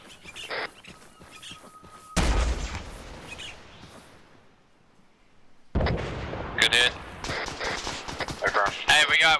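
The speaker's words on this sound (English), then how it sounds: "got a MG shooting at us from bearing 358" A mounted machine gun fires in Arma 3, sharp cracks and bursts arriving loud and dense in the second half after a quieter stretch, with a voice talking over the gunfire.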